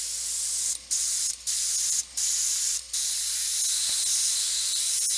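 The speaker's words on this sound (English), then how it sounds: "Either that, or I can just keep spraying, like just spray air on her." A can of compressed air sprays onto a freshly painted miniature figure with a steady, close, loud hiss, broken by four brief pauses between bursts.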